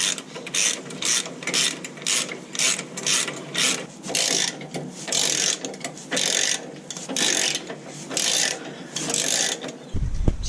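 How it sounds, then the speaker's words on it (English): A torque wrench ratchets in repeated rapid bursts, close up, as it tightens recovery point bolts to 90 Nm on a Nissan D22 Navara. The clicking strokes come in a steady rhythm with brief pauses between them. "All I need to do now is to torque it to 90 Newton meters and get onto the other side."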